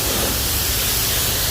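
A loud, steady hiss of water spraying close by onto a BMW E92 M3, dense and unbroken for the whole stretch with no voices.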